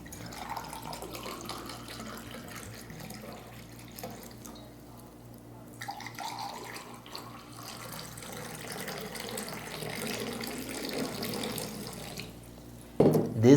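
Water is poured for drinking in a soft, steady trickle that lasts several seconds, then ends in a louder close burst at the end.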